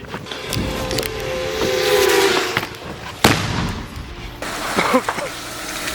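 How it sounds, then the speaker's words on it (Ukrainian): Heavy shelling in Pokrovsk: a loud sharp blast cracks out mid-clip over a rumbling, noisy background, with a rising whine and smaller distant thuds and crackles around it. "Дуже потужний обстріл."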